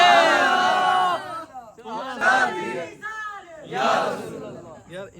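A gathered crowd shouts religious chants in loud bursts, with a lead voice and the crowd answering back and forth, close and energetic, amid voices and hubbub.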